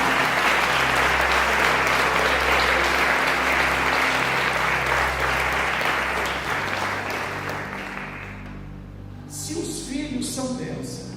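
Church congregation applauding together, a dense sustained clapping that gradually thins and fades toward the end, with a low steady hum of instruments underneath.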